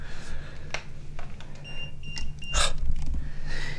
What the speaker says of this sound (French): Il bip dans la poche parce qu'il touche l'aimant de mon téléphone.